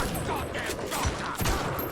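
Gunfire in Bioshock, a point-blank shot at an enemy: a couple of muffled bursts amid game ambience, moderately loud and close, with brief talking nearby.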